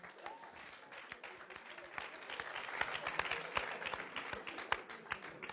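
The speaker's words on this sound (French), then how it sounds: "Est-ce qu'on peut acclamer encore le Seigneur?" A congregation at a religious wedding applauds the Lord, steady dense clapping from many hands that swells slightly over several seconds, with some voices mixed in.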